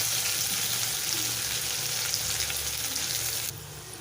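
Steady, dense sizzling of onions frying crisp in hot oil in a kadhai, close up and continuous, easing slightly near the end.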